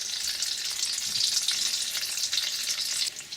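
Rolled beef taquitos laid seam side down in hot frying oil crackle and hiss in a dense, continuous sizzle, close and steady, with no voices.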